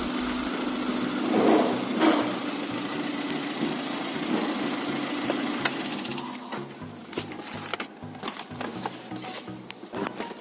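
A machine engine idles steadily while its lubrication system is checked, a continuous mid-pitched hum with a busier, clattering stretch toward the end.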